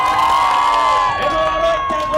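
A crowd at a village wrestling match announcement cheering and shouting together, a loud sustained roar of voices lasting the whole moment.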